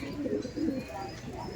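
Kaldom pigeons in a breeding loft in Barasat give a couple of soft, low, throaty coos in quick succession, fairly faint and close by.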